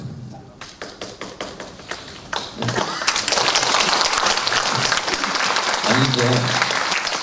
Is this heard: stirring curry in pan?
no